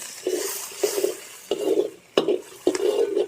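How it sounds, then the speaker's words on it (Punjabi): Ginger and green chilies fry with onions in a hot pan, sizzling steadily while a spoon stirs them in several distinct scraping bursts. "ਅਦਰਕ ਤੇ ਹਰੀਆਂ ਮਿਰਚਾਂ ਨਾ ਆਪਾਂ 2-3 ਮਿੰਟ ਨੂੰ ਪਕਾਵਾਂਗੇ"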